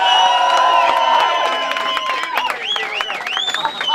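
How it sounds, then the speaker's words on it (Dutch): A carnival crowd claps and cheers for the new princess, loud and close, with whoops and children's shouts rising over steady applause and some voices in the mix. "Een heel groot applaus hier."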